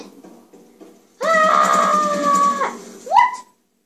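A person playing Call of Duty gives a loud, high-pitched scream lasting over a second after some faint background noise, then a short rising squeal follows.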